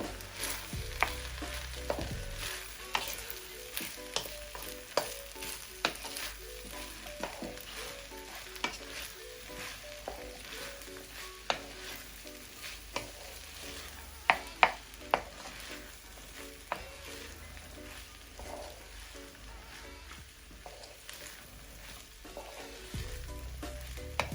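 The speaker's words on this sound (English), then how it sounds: "And a teaspoon of this seasoning. Get this all mixed in." Prawn fried rice being stirred with seasoning in a hot pan: continuous sizzling with frequent scraping and clacking strokes of a utensil against the pan, close and fairly loud, with no voices.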